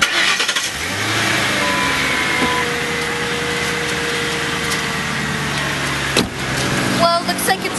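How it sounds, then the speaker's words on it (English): A car engine cranks and starts before an oil change, then settles into a steady idle with a brief surge partway through and a few clunks toward the end. "let me just turn on the car first."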